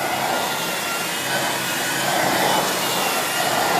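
A Miele S8730 canister vacuum cleaner with HEPA filter runs steadily while deep cleaning carpet, a loud, continuous whooshing roar with slight swells as it is pushed in different directions, heard alone.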